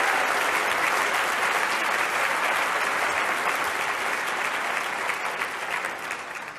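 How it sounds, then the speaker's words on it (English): An audience applauds high school students at a talk, a broad, steady wash of many hands clapping throughout, easing slightly toward the end. "Can we have a round of applause for all the high school students that are in here?"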